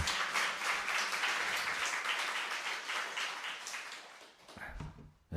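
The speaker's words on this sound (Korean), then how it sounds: "다시 한번 박수 부탁드리겠습니다" A congregation applauds at a family church service, a dense, steady wash of clapping from many people that gradually thins and fades out near the end.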